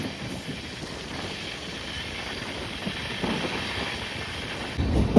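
A fast passenger train pulls into Toranagal railway station toward platform 3, giving a continuous low rumble and rattling wash of noise that grows slightly louder near the end, with no talking.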